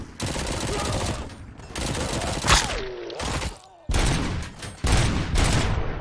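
Bursts of rapid gunfire in RoboCop: Rogue City crackle in loud volleys with brief gaps, close and harsh, with a pitched whoosh partway through.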